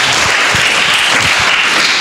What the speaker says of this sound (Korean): Give God a clap offering tonight